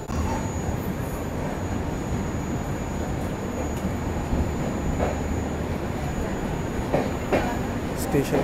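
Chennai Rajdhani train pulling out of Warangal station after a brief halt: a dense, steady rumble and rattle of carriages with a thin high squeal and some clunks, heard from on board.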